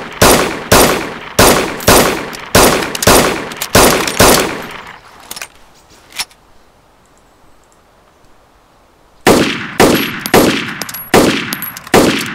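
Rapid rifle fire aimed at a gas tank in the game DayZ: two long runs of evenly spaced, loud, sharp shots separated by a quiet reload pause with a few scattered clicks and shots.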